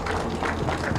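An open house crowd at a boar parade claps for a raffle winner, a moderately loud, steady patter of many hands with a bit of background voice.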